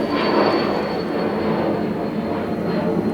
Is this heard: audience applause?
no